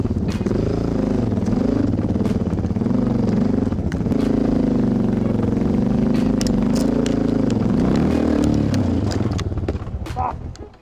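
A Suzuki DR650 enduro motorcycle being ridden, its single-cylinder engine droning steadily up close with rising and falling revs, chassis clatter and occasional knocks, fading at the end.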